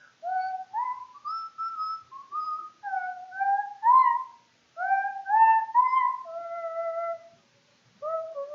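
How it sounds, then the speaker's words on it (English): A lone person whistles a bright, wavering melody of sliding notes in several phrases, with short pauses between them. "Mr. Nosey was out walking when he heard someone whistling."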